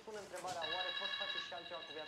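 A mobile phone rings from a kitchen in another part of the house: a thin, steady electronic tone sounds faintly and continuously beneath nearby people talking.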